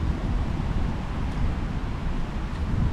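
Heavy wind buffets the mic out on the sea during a fishing trip, producing a dense, continuous low rumble with no pauses.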